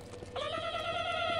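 A kitten in the video game Postal 2 gives a single clear, drawn-out meow that starts abruptly and holds its pitch, fairly faint against quiet background.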